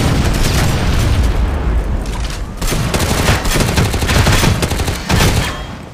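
In the video game Shadowgun War Games, a grenade blast and heavy sustained gunfire fill a loud, dense battle soundscape, with booming impacts over continuous rapid shots.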